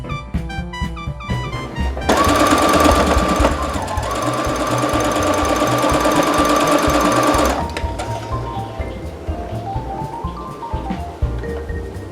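Sewing machine stitching quilt block rows together for a Bear Paw sampler block: a loud, fast, even run of stitching for about five seconds, framed by quieter clicks and fabric handling before and after.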